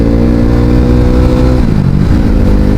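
A KTM RC 390 motorcycle engine hums loud and close under throttle, and its pitch drops as the rider shifts up a gear partway through.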